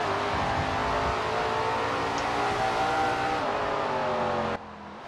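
Race car engine in the video game SRX: The Game at Slinger, a loud sustained high-revving roar with steady harmonic pitch and slight shifts, cutting sharply quieter near the end.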